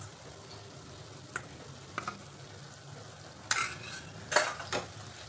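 Mixed vegetables with salt and crushed peanuts are stirred in a pan, a quiet low sizzle broken by a handful of sharp spoon scrapes and clinks, louder toward the end.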